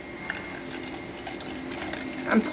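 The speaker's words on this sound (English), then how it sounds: "pour that into the bottle." Homemade brush cleaner trickles and splashes steadily into a bottle, quiet at first and growing a little louder toward the end.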